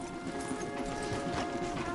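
Horses' hooves clip-clop steadily along a path in a quick rhythm, fairly close and clear, with a faint hum in the background.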